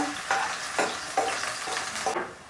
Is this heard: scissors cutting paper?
no